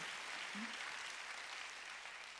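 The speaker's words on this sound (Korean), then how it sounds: "박수" Applause from a church congregation during a Sunday worship service, a steady wash of many hands clapping that fills the whole stretch at a fairly soft level and tapers slightly at the end.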